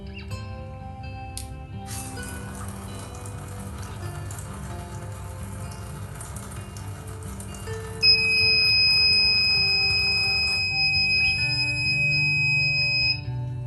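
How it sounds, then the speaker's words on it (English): A small buzzer on a drip irrigation water-flow model built with a water bottle and straw sounds at a school club fair, a steady electronic tone starting partway through over a constant background hum of the room. "after 5 seconds the buzzer will ring, telling us that there's more water being flowed"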